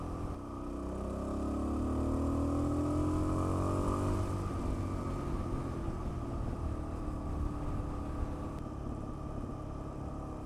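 Suzuki DRZ-400S dual-sport motorcycle engine droning steadily while riding, with rising harmonics as it pulls through gears before settling into a rough, even roar mixed with wind noise.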